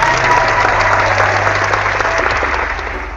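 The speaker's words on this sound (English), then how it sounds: "so round of applause" A studio audience on a morning talk show gives a round of applause. The clapping is loud, thick and continuous, a wash of hands lasting about three seconds with no voices.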